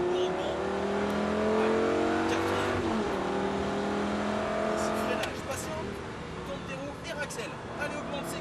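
A race car on a circuit during a driving course revs hard with rising engine pitch, loud and close, then shifts and eases off into rougher engine noise.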